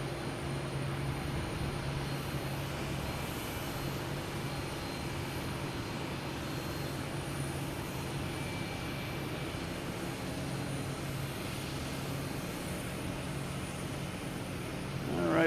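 Aircraft landing at Boston Logan Airport, a steady broadband engine roar held at an even level throughout, with a low drone underneath and no voices.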